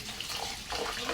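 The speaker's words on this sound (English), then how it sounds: "So we are going to wash our rice." Rice being washed in water for a Kenyan meal, a steady close wash of running, sloshing water that swells slightly toward the end, with no voices.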